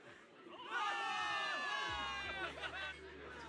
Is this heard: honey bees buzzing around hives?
no